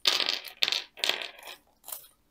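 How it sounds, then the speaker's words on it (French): Metal coins from the Talisman: Batman Super Villains Edition board game clink and jingle in four short, bright bursts, close by and alone. "Les pièces de monnaie, sonnantes et trébuchantes. Ah si, vous entendez?"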